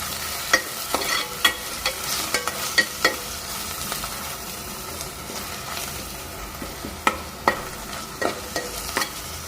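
Ginger garlic paste fries in a pan with a soft, continuous sizzle. Sharp clinks of a spoon against the metal break through at irregular intervals, and no one speaks.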